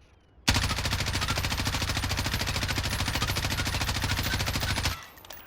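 M4 rifle in Warzone firing one sustained full-auto burst of rapid, evenly spaced shots, loud and close, starting abruptly and stopping after about four and a half seconds.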